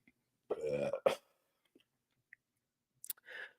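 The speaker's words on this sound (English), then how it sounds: "So I'm gonna burp." A single close, low, rumbling burp lasting about half a second, followed by a few small mouth clicks and a brief breathy noise.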